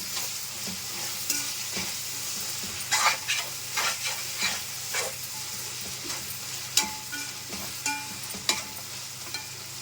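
Mint and coriander leaves sizzle in hot oil while making chicken biryani, with a steady crackling fry and repeated scraping stirs of a spoon in the pot, close up and with no voices.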